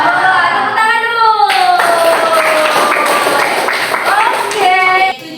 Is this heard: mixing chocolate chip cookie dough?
no